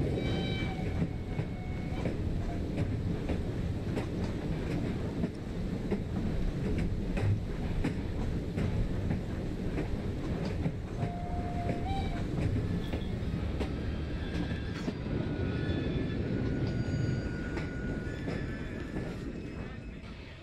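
A steam-era train riding along the tracks in Assassin's Creed Syndicate, a continuous loud rumble with rhythmic clattering and brief tonal squeals, running steadily throughout with faint game sounds layered over it.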